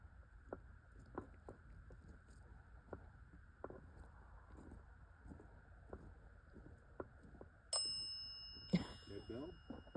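A red bell on ghost-hunting equipment during a city cemetery night investigation rings with a bright, sustained ding late in the clip, followed by a second louder burst, over faint ticks and a steady electronic hum.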